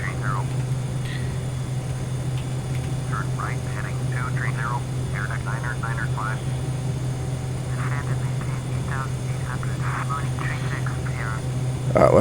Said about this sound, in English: We're actually landing the plane momentarily, so make sure you fasten your seatbelts.